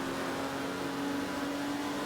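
Aston Martin race cars run at Rockingham during a motorsport heritage festival race, producing a steady, sustained engine drone with a constant pitch that holds for the whole stretch and has no pauses or voices.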